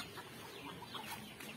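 Native chickens cluck softly in a short, faint burst of scattered calls at a distance, with no voices over them.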